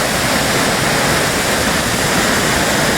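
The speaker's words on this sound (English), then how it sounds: "especially when the water is really rolling out here, it's something else" Water rushes over Natural Dam in a loud, continuous broadband roar, steady and close throughout with no pauses or voices.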